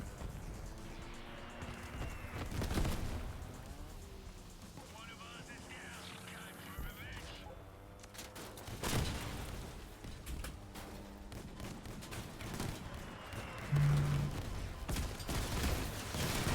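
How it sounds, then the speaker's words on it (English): Missile barrage in the vehicle combat game Crossout: rapid repeated launches and blasts crackling under continuous excited talk, with a few louder bursts standing out through the clip. "That is so many missiles."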